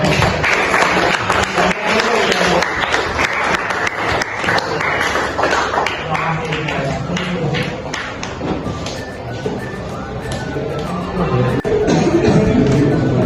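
Classmates applaud in a classroom during a teaching-practice session, a steady spread of clapping mixed with taps and thuds that runs the whole stretch while voices carry on underneath.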